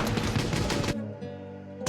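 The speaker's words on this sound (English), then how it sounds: "heavy gunfire echoing in the background" Heavy gunfire rattles in a dense, continuous burst, breaks off into a low droning hum, then erupts briefly again at the end.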